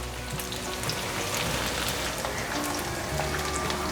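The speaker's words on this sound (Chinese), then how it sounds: "我用这样子半煎炸的方式，这样子比较不容易散掉。" Vegan bean curd rolls with burdock pan-frying in oil over medium-high heat, a dense, even crackling sizzle like rain that stays close and constant throughout, with no voices.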